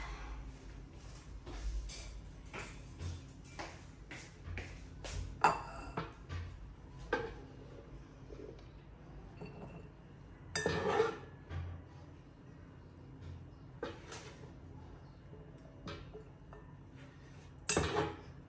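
Endive salad is tossed in a bowl, with utensils clinking and scraping against the dish in irregular bursts and soft shuffling between them. The sound is close and moderately loud, with no talk over it.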